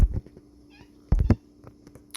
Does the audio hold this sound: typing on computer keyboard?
no